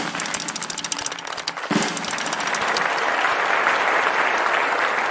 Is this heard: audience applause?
yes